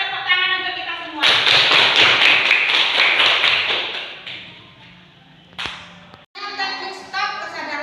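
A group of participants in a classroom teacher-training session claps together in a dense burst of about three seconds that gradually thins out, with a speaker's voice just before and after.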